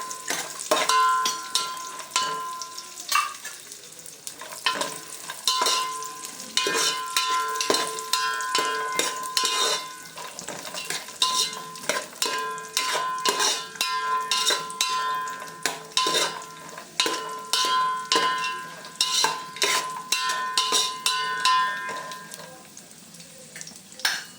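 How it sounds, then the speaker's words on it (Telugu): Almonds, cashews and raisins fry in ghee in a pan, crackling and sizzling steadily with frequent sharp clinks and scrapes of a spoon stirring against the metal throughout. "బాదం పప్పు, జీడిపప్పు, కిస్మిస్లు దోరగా వేపుకోవాలి."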